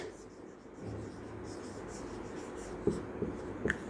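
Pen scratching on paper while a maths solution is written out, faint and steady, with a few small taps and strokes near the end in a quiet room.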